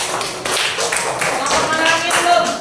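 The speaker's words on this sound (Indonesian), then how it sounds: "Beri tepukan." Short burst of classroom applause, a cluster of close rapid claps from students with voices mixed in.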